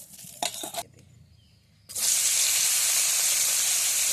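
Grated taro paste fries in a pan with a loud, steady sizzle that starts abruptly after a brief stir and a quiet pause, then holds a bright hiss close up.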